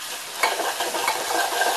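Garlic tempering sizzles in hot oil in a pan for a dal and spinach dish, a steady crackling hiss broken by a few scraping stirs. Nobody speaks over the sizzle.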